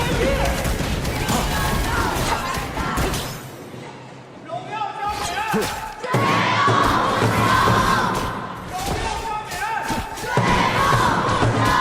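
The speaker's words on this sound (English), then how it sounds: "we invite the crowd to cheer for the teams" A crowd cheers for the teams at a Honor of Kings Challenger Cup esports match, loud roaring waves that dip briefly in the middle, under a commentator talking.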